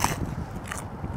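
A bite into the well-cooked crunchy crust of a pizza from a pizza shop, one sharp crack followed by brief crackling chews close to the mic.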